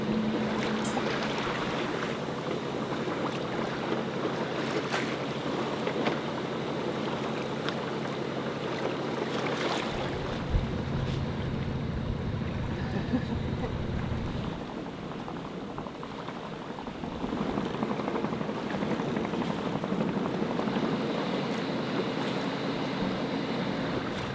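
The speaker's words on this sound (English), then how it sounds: "So a little motor sail up through the channel and over the top of the Anambas Islands" A sailboat motor-sails through a channel near the Anambas Islands, its engine droning steadily under continuous rushing water and wind noise, with a low rumbling stretch midway.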